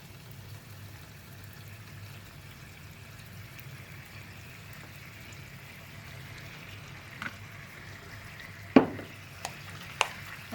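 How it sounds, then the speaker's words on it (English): Buffalo sauce bubbling in a pan: a low, steady simmer that holds evenly, then a few sharp clicks and taps near the end. "you're just gonna let this boil for a couple of minutes to let the ingredients mix together well"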